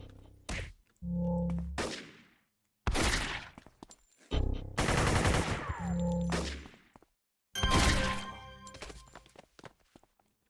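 Enemy gunfire in the City of Heroes video game, loud bursts of rapid shots in several separate volleys with short silent gaps between them.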